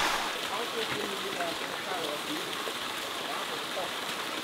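Steady rain falls outdoors in a mountain setting, a dense, even hiss that holds at constant loudness throughout, with voices faintly mixed beneath it.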